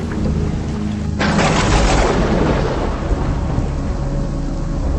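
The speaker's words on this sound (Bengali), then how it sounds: "ততক্ষণে বৃষ্টির পরিমাণ বেড়ে গেল সাথে প্রবল ঠান্ডা হাওয়া বইতে শুরু করলো" Heavy rain pours steadily while a deep thunderclap rolls in and rumbles loudly for a few seconds before fading back into the downpour.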